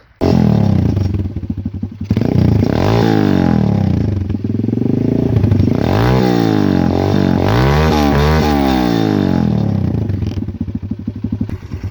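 A Kayo KXD 125 612 Pro dirt bike engine idles loudly, then revs up and down in repeated rising and falling bursts, close by and sustained throughout.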